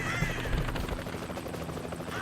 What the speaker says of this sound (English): You'll float over with the helicopter